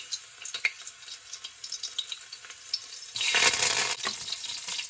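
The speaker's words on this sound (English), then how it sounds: "So now that my oil is hot, I'm going to add 2 cloves of garlic to the oil here." Two garlic cloves and fresh thyme drop into hot oil in a Dutch pot, starting a quiet crackle that bursts into a loud, steady sizzle partway through and then eases slightly, with no talk.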